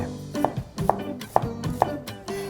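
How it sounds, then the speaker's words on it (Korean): A knife slices a halved, cored onion into thin strips on a cutting board, four crisp evenly spaced chops close and clear, with no voices. "그 다음에 그대로 채 썰면 돼요"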